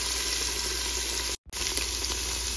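Tomato paste and onion sauté for maqlooba, a loud, dense sizzle of frying that runs steadily, broken by one very brief silent gap before resuming just as strong.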